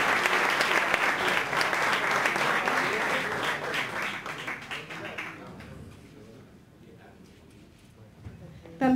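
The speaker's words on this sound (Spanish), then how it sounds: "Un caluroso aplauso" A crowd applauds steadily and loudly for several seconds, then the clapping thins and fades to scattered claps.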